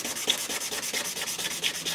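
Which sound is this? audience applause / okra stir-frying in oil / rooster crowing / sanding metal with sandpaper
sanding metal with sandpaper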